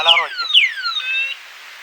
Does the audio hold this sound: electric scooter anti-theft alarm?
yes